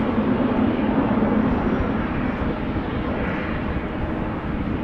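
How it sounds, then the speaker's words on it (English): A KLM Boeing 777-300 taxis toward runway 18L at Amsterdam Schiphol Airport. Its jet engines give a steady, fairly loud broadband roar that holds evenly throughout, with no voices. "This 777-300 is making its way over to runway 18 left"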